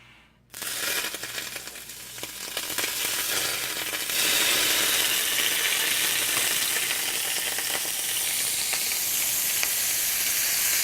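Canned corned beef fries in a pan of oil and margarine, crackling with a loud, steady sizzle that begins abruptly and grows stronger, with occasional scraping and stirring clinks and no talking.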